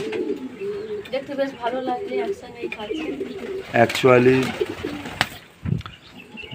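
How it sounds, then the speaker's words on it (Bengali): Pigeons coo in soft, repeated throaty rolls nearby while feeding on the floor of a cage, and a person speaks briefly partway through. "পায়রাগুলো দেখুন কেমন নিচে খাচ্ছে"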